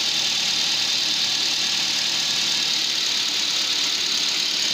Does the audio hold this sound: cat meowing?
no